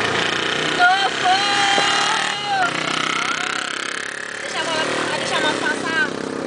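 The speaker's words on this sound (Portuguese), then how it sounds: "Deixa a moto passar." A motorcycle engine buzzes past amid chatter and shouting voices, its whine rising and falling over several seconds.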